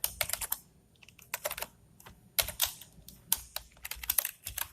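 Someone types code on a computer keyboard, with bursts of close, crisp key clicks broken by short pauses, steady and fairly quiet with no talking.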